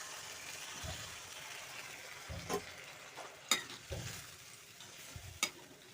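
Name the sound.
manimuni (Centella) juice frying in a pan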